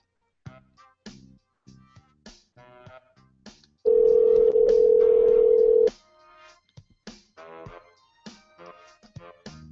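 A telephone call placed during a prank-call radio show begins with a string of short dialing tone bursts, then a loud sustained tone for about two seconds, followed by more brief clipped tones.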